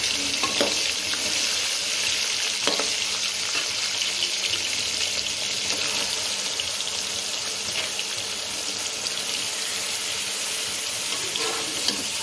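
Eggplant pieces rubbed with salt, turmeric and dried chili frying in hot oil, giving a steady, dense sizzle with faint scattered crackles and soft stirring clinks throughout, no voices.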